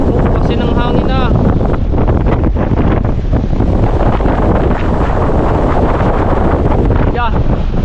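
Strong wind roars and buffets the microphone nonstop, a loud rumbling gusty blast, with a few brief voices rising over it.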